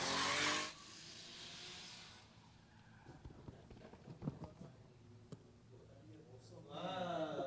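A drift car at a Borneo drift series round, handbraking between zones and sliding with tire squeal and engine noise at a distance, under a commentator's voice.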